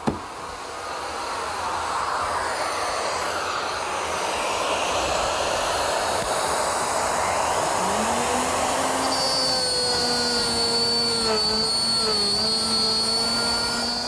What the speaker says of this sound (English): I've set up my router with a straight cutting bit and my guide fence, and I'm going to make a dado for a nut.